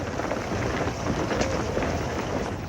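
Rain falling in a First World War documentary sound effect, a steady dense hiss of downpour with a faint low rumble beneath, continuous and even, no voices.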